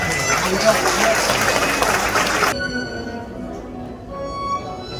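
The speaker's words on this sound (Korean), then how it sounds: "여러분의 축복의 박수 부탁드립니다." Wedding guests at a Korean wedding ceremony clap loudly in a dense, sustained burst during a candle-lighting rite, the applause cutting off abruptly halfway as a quieter room with a faint voice remains.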